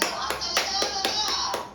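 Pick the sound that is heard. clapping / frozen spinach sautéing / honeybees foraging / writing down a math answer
clapping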